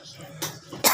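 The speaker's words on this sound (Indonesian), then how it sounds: "tiba-tiba batuk" Two short, harsh coughs from a person, a brief one midway and a louder one at the end, close and bursting out of a quiet background.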